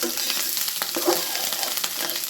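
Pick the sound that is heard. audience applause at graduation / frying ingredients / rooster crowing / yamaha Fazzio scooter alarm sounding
frying ingredients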